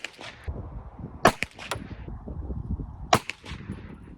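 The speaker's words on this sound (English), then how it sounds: "still shooting the Underwood ammo." Walther PPK/s .380 pistol firing Underwood ammunition at a range, two sharp cracks about two seconds apart over low background rustle and noise.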